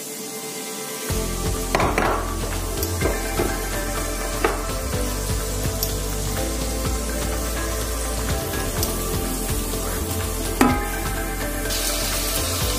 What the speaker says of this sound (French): j'ai mis un peu d'huile et je fais revenir dans les oignons là à l'intérieur